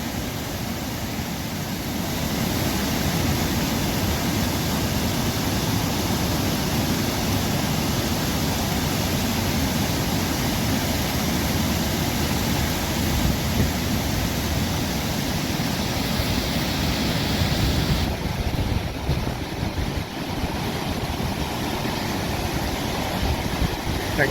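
A steady, broad rush of flowing water fills the clip, loud and unbroken, with a slight change in texture near the end, in downtown Burlington, Wisconsin.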